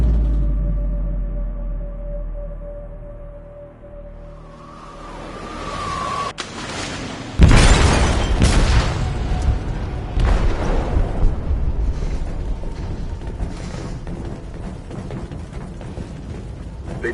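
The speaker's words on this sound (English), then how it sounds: "They detonated an explosive in the hold." In the video game Detroit, an explosive detonates in a ship's hold: a low rumble gives way to a sudden heavy blast, followed by a long churning roar of debris and rushing water.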